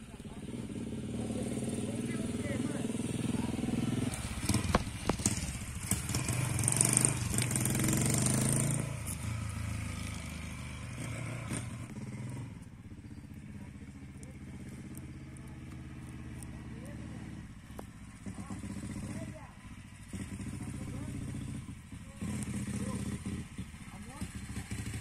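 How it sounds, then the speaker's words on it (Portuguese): Motorcycle engine running rough and stalling with a flooded choke outside a cemetery at night, sputtering, uneven idle with occasional bursts and clatter, close by, under frequent excited talk from nearby riders. "Ó, a moto tá ruim, mano, ó"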